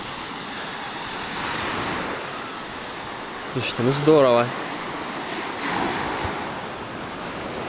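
Surf washes steadily against a sandy beach on the Sea of Azov with wind buffeting the microphone, and a person speaks briefly over the waves.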